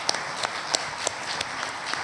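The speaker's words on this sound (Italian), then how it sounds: "Ancora un applauso a Gian Antonio e Lucia." Scattered audience clapping at an Italian journalism event, faint and sparse, with a few sharper individual claps standing out over a thin backdrop.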